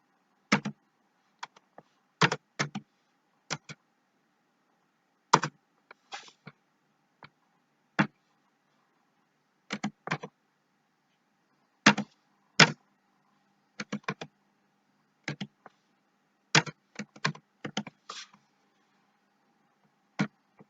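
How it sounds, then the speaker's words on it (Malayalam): Keys on a computer keyboard are tapped during data entry into an Excel spreadsheet, as sparse, crisp clicks in short irregular bursts separated by quiet pauses, with no talk. "ഇപ്പം എംപ്ലോയി നമ്പർ ഞാനിപ്പോൾ ഇവിടെ ടൈപ്പ് ചെയ്തു"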